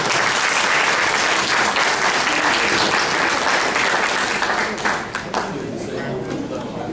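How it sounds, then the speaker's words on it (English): A debate audience gives the candidates a big round of applause, loud sustained clapping that thins and softens toward the end as scattered chatter rises beneath it. "Please give the candidates a big round of applause."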